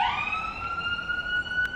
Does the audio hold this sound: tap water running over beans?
no